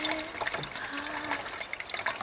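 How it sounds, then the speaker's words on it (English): Water squeezed by hand through a HydroBlu Versa Flow filter, a steady close gushing stream with a few small splashing spurts and trickles, no talk. "Okay, now I'm just gonna squeeze it. It has pretty good flow."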